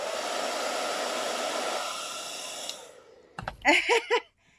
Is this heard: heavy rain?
no